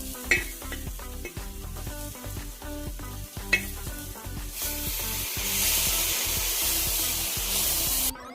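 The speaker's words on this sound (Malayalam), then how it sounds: "ഗോൾഡൻ ബ്രൗൺ കളർ ആവുന്നത് വരെ നല്ലോണം വഴറ്റിയെടുക്കാം" Onions, tomatoes and chillies for a chicken curry sauté in a pan with a rhythmic run of spatula scrapes and clatters over a continuous sizzle that grows louder and denser toward the end.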